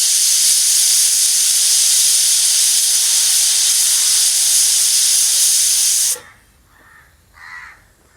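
A loud, sustained hissing whistle of steam escaping a pressure cooker, cooking beef and tapioca biryani, runs for about six seconds, then cuts off, leaving faint background noise.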